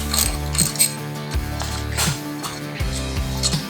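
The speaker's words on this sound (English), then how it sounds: "Just gotta unbolt." A ratchet wrench clicks in quick rapid bursts while unbolting a foot peg on a Harley-Davidson Sportster 1200 motorcycle, close and distinct, with short pauses and small metallic clinks between the strokes.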